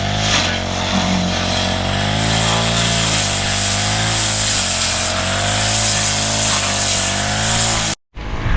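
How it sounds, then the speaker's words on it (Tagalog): A grass cutter's engine drones loudly and steadily with a buzzing whine, running continuously before cutting off abruptly near the end. "grass cutter"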